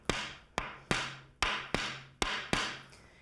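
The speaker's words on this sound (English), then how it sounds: "give it a whack with the old wooden mallet," Seven sharp whacks from a wooden mallet, spaced roughly half a second apart, each a crisp knock with a short ringing tail, alone without talk.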